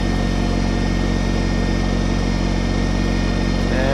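A Kubota BT602 backhoe tractor's diesel engine runs loud and steady at close range while its rear outriggers are lowered, a constant mechanical drone with no talk.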